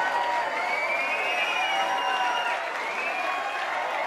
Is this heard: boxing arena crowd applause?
yes